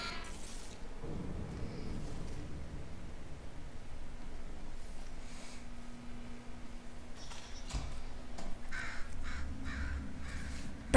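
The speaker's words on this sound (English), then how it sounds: "Bird! Bird! Bird!" Crow cawing in the video game Portal Stories: Mel, several short harsh calls scattered over a droning game ambience with a faint steady hum, moderately loud and without speech.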